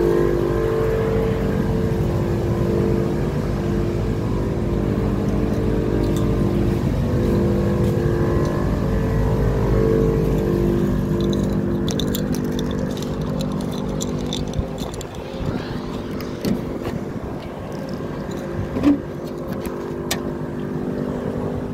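A car engine fitted with a new distributor and inline fuel filter runs at a steady idle. Its deep, loud rumble holds nearby throughout, with a few light clicks and rattles late on and no talking.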